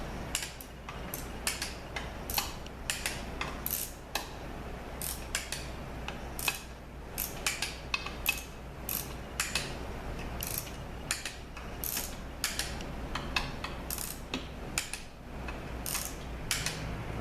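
A ratcheting torque wrench tightens transmission pan bolts on a Mercedes 722.9 gearbox, rapid close clicking strokes in repeated bursts, quiet and unaccompanied by speech.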